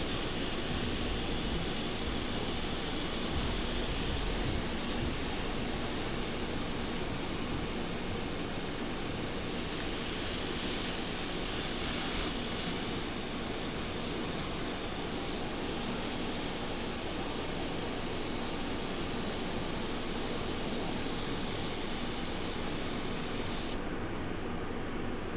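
Steady airbrush spray hiss during a charcoal pencil drawing session, a continuous broadband rush running almost unbroken for the whole stretch before cutting off near the end.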